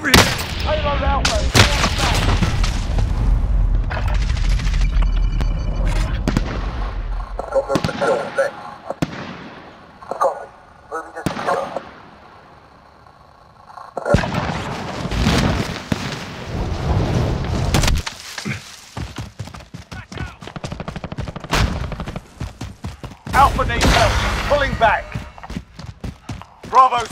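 Rapid bursts of gunfire and heavy blasts crackle through a video game battle, coming in dense volleys broken by short lulls, with voices calling out over the shooting.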